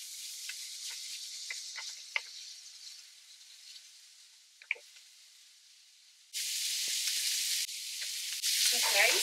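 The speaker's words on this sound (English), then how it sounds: "turn on our stove to high heat. And we're going to put all our bacon now" Bacon fries in a pan on a stove turned to high heat, giving a soft crackle with scattered pops that later jumps to a loud, steady hiss of sizzling fat.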